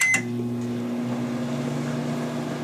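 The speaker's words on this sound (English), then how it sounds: "I have no idea about this microwave. Let's hit start." A microwave oven starts with a brief click and beep, then settles into a loud, steady droning hum from its running magnetron and fan.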